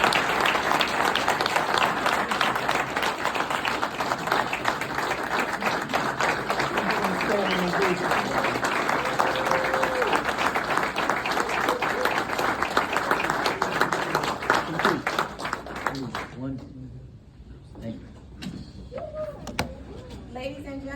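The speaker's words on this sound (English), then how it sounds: "a final round of applause for Mr. Charles W. Taylor" Audience applause at a retired civilian's retirement ceremony, a sustained crowd ovation lasting about sixteen seconds before tapering off into scattered claps and quiet room murmur.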